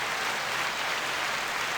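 Steady applause fills the space, dense and even throughout with no voices over it, at a moderate distance and fairly quiet.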